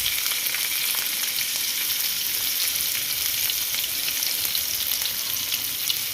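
Chopped onion fries in hot oil with mustard seeds and cumin, giving a loud, steady, close hiss of sizzling that holds evenly without pause.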